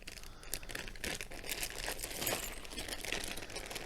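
Plastic bags crinkle and rustle as a parcel of military medals and kit is unpacked, a continuous close crackling of soft plastic with small sharp crinkles throughout and no speech.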